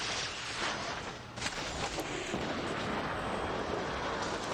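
Heavy, continuous rumbling explosions from rockets in the mech combat video game War Robots, a dense roaring barrage with a brief dip partway through and no talk over it.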